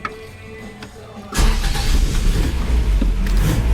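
A Toyota Hilux 4WD engine with an unbled clutch starts abruptly inside a shed, then runs loud and rough at close range, a steady rumbling idle filling the space.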